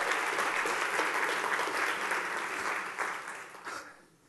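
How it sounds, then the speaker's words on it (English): Audience applause at a conference, loud sustained clapping from a large crowd that swells early, holds steady, then tapers off into a few final claps. "can we give it up to David and his team for an incredible day?"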